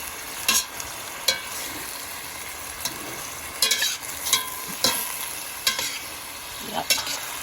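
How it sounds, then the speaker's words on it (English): Meat sears in a hot pan with a steady sizzle, broken by sharp scraping knocks from stirring every second or so, close and fairly loud with no talking. "In goes the meat. So there it is cooking."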